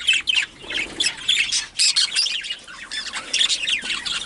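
A breeding bird in a cage gives repeated harsh, territorial squawks in short bursts, close and fairly loud, with brief gaps between calls.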